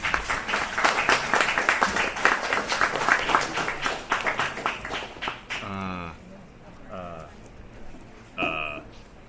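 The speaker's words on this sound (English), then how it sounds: "Can we have a round of applause, please?" A crowd applauds a team at a student project presentation event, quick dense clapping lasting several seconds before fading, followed by voices speaking, one distorted like a microphone.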